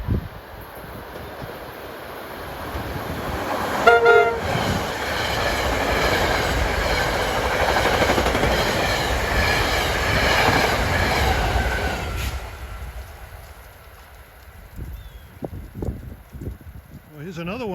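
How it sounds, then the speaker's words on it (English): New York to Summit commuter train 6341 rolls into a suburban station on an autumn afternoon, a loud sustained rumble of wheels with a brief high squeal, then easing off as the train slows to a stop. "6341 New York to Summit coming in for a stop"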